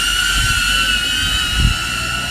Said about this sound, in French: Et là il y va notre drone.